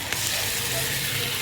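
Chicken frying with softened, fried onion and garlic in a pan, giving a steady, close sizzle with a broadband hiss that holds level throughout, with no talk over it.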